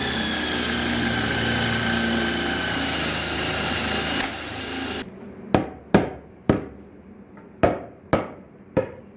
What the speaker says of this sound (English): That's a dull drill bit.